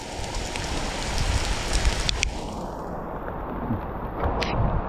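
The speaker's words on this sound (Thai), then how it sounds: "นี่มาถึงฝนตกครับตกแรงด้วย" Heavy rain pours down near the Chet Sao Noi waterfall in Saraburi, a dense, loud, continuous roar of drops striking surfaces without any voices.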